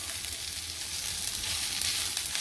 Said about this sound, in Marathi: आता 1 मिनिट आपण आलं लसूण परतून घेतलेलं आहे.